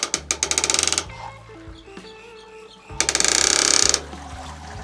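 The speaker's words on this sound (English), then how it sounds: "Oh, how good is this pulley? I should have grabbed one years ago." A pulley mechanism ratchets during an all-grain amber ale brew session, giving two bursts of rapid, evenly spaced clicks that speed up, loud and close, with a quieter mechanical pause between them.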